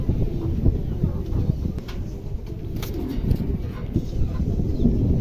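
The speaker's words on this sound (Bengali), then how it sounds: "এটা কবুতর ইনশাল্লাহ খুবই চমৎকার আছে" Pigeons coo in low, throaty murmurs close by, a steady rumbling texture with a little wind buffeting the microphone.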